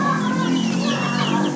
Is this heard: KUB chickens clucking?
yes